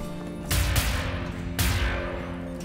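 Two loud gunshots from Wolfenstein: The New Order, spaced about a second apart, each with a ringing tail over a low droning background.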